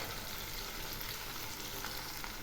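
Onion and garlic paste fries in a pan for a fish curry, giving a dense, even, continuous sizzle that stays constant and close throughout, with no voices.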